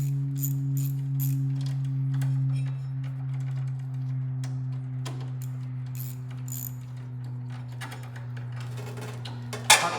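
A 1/4 inch ratchet works on the throttle controls of a Cub Cadet 1710 garden tractor, giving short bursts of close, sharp clicking over a steady low mechanical hum.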